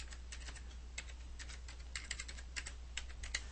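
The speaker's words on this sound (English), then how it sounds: "and now I'm going to type in" Someone types a file name on a computer keyboard: a quick run of crisp, irregular key clicks in a quiet room, close and faint, with a low steady hum underneath.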